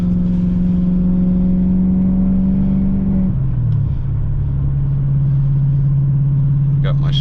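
BMW E39 540i V8 with a Turner-tuned custom exhaust idling high while warming up, a loud steady drone that drops in pitch partway through and settles into a deep, rumbling idle.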